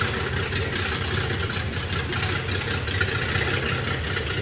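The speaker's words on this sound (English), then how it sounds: "I'll just let you guys listen to the engine run on its own." Freshly built L30 engine in a 1977 Datsun 280Z idling on its own, a loud, steady, slightly lumpy rumble close up with no talk.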